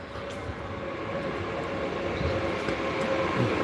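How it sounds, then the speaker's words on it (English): A train pulls into a station platform in the Netherlands, a steady close rumble with a faint high whine that grows slightly louder over a few seconds. "my train has arrived."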